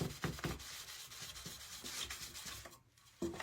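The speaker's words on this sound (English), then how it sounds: "I'm just rubbing it on there and it's taking the paint off." Fine steel wool rubbed against the painted ends of a Dollar Tree wooden laundry sign, quick repeated scratchy strokes close up, pausing briefly near the end.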